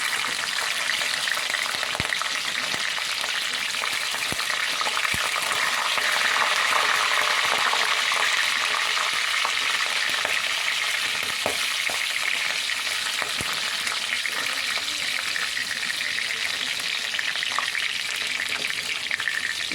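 Green chillies sizzling in hot oil in a pan for a roasted-spice chicken curry, a loud continuous close frying hiss with faint scattered clicks, no talk.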